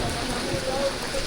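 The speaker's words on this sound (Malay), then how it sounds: "Yang makin lebat pula hujan daripada Pondok Layang-Layang." Heavy rain falls on a hiking trail on Mount Kinabalu, a dense, steady hiss of drops close around, with a voice speaking faintly underneath.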